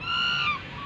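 A single goose gives one loud, nasal honk that lasts under a second and fades at the end. No voices are heard.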